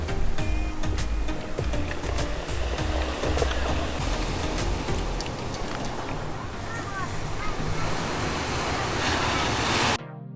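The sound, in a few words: ocean waves on rocky Dulan seashore, Taitung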